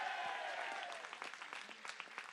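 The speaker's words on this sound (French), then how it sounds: "Applaudissez-les." Faint, distant applause from a crowd at a French regional election-night rally, scattered claps rising over a hazy background and fading slightly toward the end.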